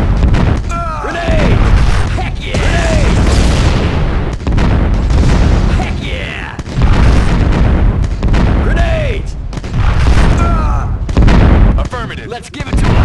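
Grenade and other explosions in the Twisted Insurrection strategy game, repeated heavy booms and bursts over a continuous dense battle din, with game voices calling out between blasts.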